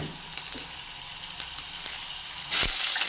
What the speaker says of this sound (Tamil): அதில் கடுகு போடு.